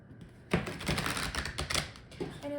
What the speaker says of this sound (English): I know some of you may like hearing me or seeing me shuffle